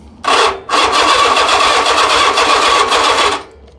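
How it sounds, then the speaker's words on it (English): A vintage Honda Goldwing barn find cranks briefly, pauses, then fires and runs with a loud, steady mid-pitched engine roar for about three seconds before cutting off. "see if it'll crank. Here we go, ready?"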